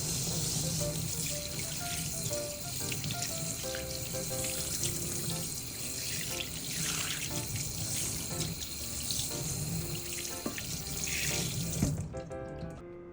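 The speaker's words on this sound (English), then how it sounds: "Rinse away the salt and extracted water from the surface." Tap water running steadily into a sink while salted mackerel is rinsed, a continuous close splashing stream with occasional drips, cutting off abruptly near the end.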